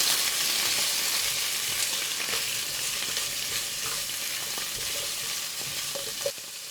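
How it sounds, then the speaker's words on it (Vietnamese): Garlic, shallots and bamboo shoots stir-frying in a pan, a steady loud sizzle with scraping stirs throughout and one sharp clack near the end. "Xong rồi mình cho măng vào xào."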